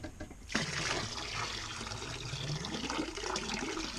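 Warm water from a small kettle dumped down an ice auger hole to clear shavings on a frozen lake, a sudden splashing pour that starts after a brief pause and runs steadily, close and moderately loud.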